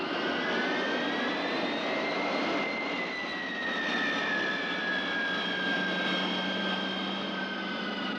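Airplane jet engines drone loudly and continuously on an emergency landing approach, with a steady roar and slowly shifting whining tones and no break.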